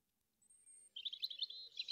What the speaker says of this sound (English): The birds were chirping, and the leaves on the trees rustled gently in the wind.